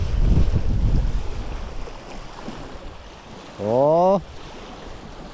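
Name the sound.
strong wind over the water while fishing from a boat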